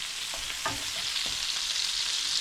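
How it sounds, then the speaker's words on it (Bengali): Paneer being fried with coriander in hot oil, a steady close sizzle with a few stirring scrapes and clicks over a constant bright hiss. "করিয়ান্ডা দিয়ে এখন এটাকে একটু ভাজবো। তেলের মধ্যে একটু একটু ভেজে নেব।"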